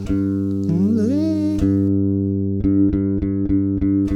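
A bass guitar holds a sustained low note, joined by a high ringing harmonic that bends briefly, followed by several short plucked notes in a steady rhythm.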